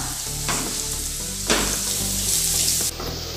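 Chicken patty filling with coriander leaves sizzles in a pan as it is mixed, a close steady fry broken by a few firm scraping strokes of the spoon, no talking.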